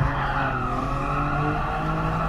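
A Nissan Skyline GT-R R33 2.6 24V biturbo with a five-speed manual slides in GT Sport, its tires squealing loudly and steadily over the droning engine, heard from the interior view with no talk.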